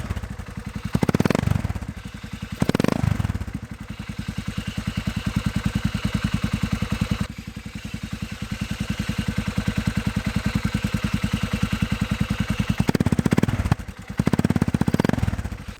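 A small engine on a homemade mini Ford Raptor runs steadily at a close, even idle-like drone, with brief louder bursts near the start and end while only the back right tire spins.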